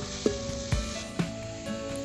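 Tomatoes hitting hot oil with cinnamon and onion in a pan, giving a steady close sizzle and frying hiss with a few soft stirring knocks. No one speaks.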